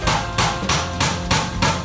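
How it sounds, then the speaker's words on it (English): Hammering at a work site in Peru: five loud, close, evenly spaced hammer strikes in quick succession, each ringing briefly. "I'm gonna hammer the rest of this in that they didn't do right."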